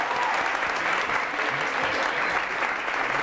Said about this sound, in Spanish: es un aplauso para ustedes que son